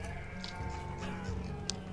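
Sheep in the game Banished bleat in a wintry village setting, soft and mid-distance over a steady ambient game background, with a couple of brief high calls standing out.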